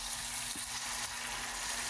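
Onions fry in olive oil in a pan, a steady, close sizzle with a soft crackling hiss that holds evenly throughout.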